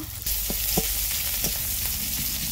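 Cumin, chilli and garlic spices sizzling in hot oil in a pan, a bright continuous frying hiss with a few soft stirring knocks, close and moderately loud.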